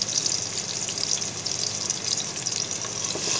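Chopped onions fry in a pan for kabab biryani, salted to soften, giving a dense, steady sizzle that stays close and even throughout with no voices.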